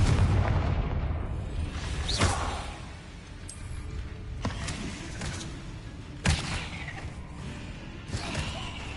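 Confringo blasting spells from Hogwarts Legacy go off in several explosive bursts, each sharp bang leaving a rumbling tail, with steady game ambience between the blasts.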